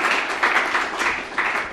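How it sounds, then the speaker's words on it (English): Audience applause at a summit launch press conference, a dense steady wash of many hands clapping with small swells, moderately loud and without speech. "Give them a hand of applause."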